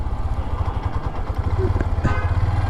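A motorcycle engine idling in gear, a close, loud, steady low chugging pulse with a faint clatter on top.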